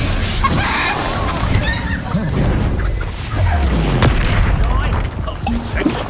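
Expulso explosion spells in Hogwarts Legacy give loud, deep blasts with crashing debris over busy game noise, and a voice calls out between the booms.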